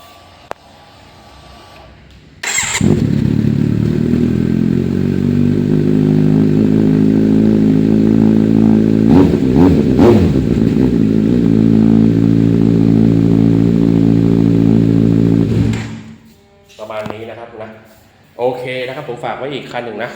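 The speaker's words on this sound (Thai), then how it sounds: "ฟังเสียงท่อหน่อยเนาะ" A 2017 Kawasaki Z900 motorcycle with aftermarket exhaust idles loudly up close with a deep rumble, a couple of quick throttle blips midway, then cuts off before voices resume.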